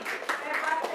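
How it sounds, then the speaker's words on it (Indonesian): A primary school class performs a special rhythmic clap for a classmate in a classroom lesson, with a few sharp claps rising over children's voices chanting along for about a second. "Beri tepuk hebat untuk teman kalian."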